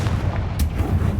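A Confringo fire spell explodes in Hogwarts Legacy with a dense, loud, low booming blast that rumbles on for about a second, with a brief bright crack in the middle.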